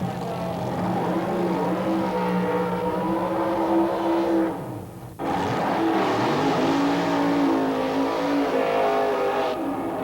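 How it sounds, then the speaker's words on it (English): Supercharged aluminum-block Chevy dragsters from the 1986 Wild Bunch field doing burnouts: a loud, continuous engine roar with a brief dip near the middle before it surges back. "What a pair of wild burnouts by these crazy Wild Bunch cars"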